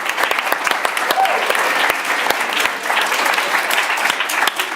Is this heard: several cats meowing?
no